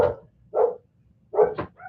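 Dogs upstairs in a house bark in separate sharp bursts, a couple of loud barks spaced apart with short gaps between them, sounding fairly close and clear with no voices.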